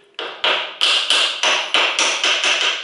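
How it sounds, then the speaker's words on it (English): A hammer taps a pin into a water pump on a 1990–2002 Toyota Corolla, nine sharp metallic strikes in a steady, slightly quickening rhythm, loud and close with no talking. "then we can use hammer and"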